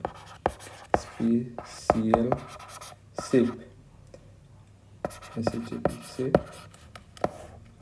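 A pen scratches out a written answer by hand during a lesson on transformers with an E-shaped core, with soft scribbling strokes running between and beneath a teacher's spoken explanation.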